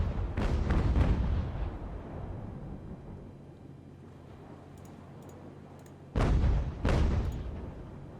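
Cannon fire from sailing warships in Ultimate Admiral: Age of Sail, heavy booming blasts in two clusters with a low rumbling tail between them.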